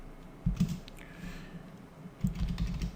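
Several keystrokes land on a computer keyboard in two short bursts, close and clear against quiet background hiss.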